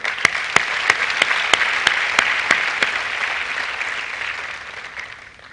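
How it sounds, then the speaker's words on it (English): An audience at an annual business forum applauds. A few sharp, distinct claps ring out early over a broad wash of clapping that slowly thins and fades toward the end, with no voices over it. "I think it deserves a round of applause"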